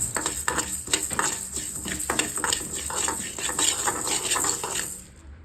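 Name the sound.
dry-frying coriander seeds and poppy seeds in a pan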